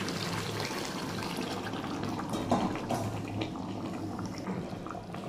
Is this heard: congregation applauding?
no